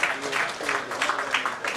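Applause at a community career seminar after members are introduced, a short burst of clapping with some voices mixed in, moderately loud and steady.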